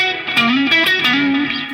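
Electric guitar solo played through an Otter's Pocket Reverb and a Zaphod Overdrive pedal, with sustained, lightly distorted notes and bends that ring out into a spacious reverb tail, steady and fairly loud with no talking.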